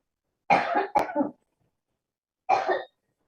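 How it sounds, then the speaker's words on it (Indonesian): Three close, harsh coughs: two in quick succession, then a pause and a third, with silence around them. "sorry saya izin batuk dulu."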